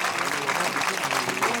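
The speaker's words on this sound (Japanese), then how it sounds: "たくさんの拍手をお願い" Audience applause at a taiko drum festival, a dense, steady patter of many hands clapping throughout the brief moment, fairly loud and close, with no voices standing out.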